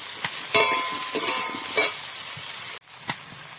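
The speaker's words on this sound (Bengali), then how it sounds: "একটু নুন আর হলুদ দিয়ে একটু ভেজে নিচ্ছি ফুলকপিটা ভালো করে" Cauliflower frying with salt and turmeric in a pan, a steady close sizzle with occasional stirring scrapes and a brief break near the end.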